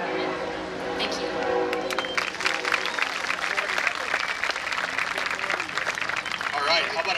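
An audience at a homecoming pageant applauds a contestant named Monica, a dense, continuous patter of clapping that swells and holds, with voices talking over it.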